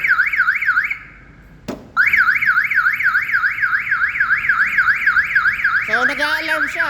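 A loud 2026 Mitsubishi L300 FB van alarm wails in a fast warbling cycle, cuts out briefly, then resumes continuously before shifting to a different chirping tone at the end.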